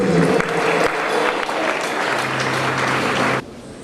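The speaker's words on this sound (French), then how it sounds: "sous nos acclamations" Mourners at a funeral gathering clapping and cheering, a loud, dense burst of applause with a held tone beneath it, cut off abruptly near the end.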